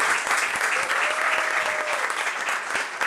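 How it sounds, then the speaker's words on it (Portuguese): At a public forum on drug policy and care, an audience gives sustained, dense applause to colleagues, with many hands clapping steadily throughout at an even level. "Uma salva de palmas para os nossos coleguinhas."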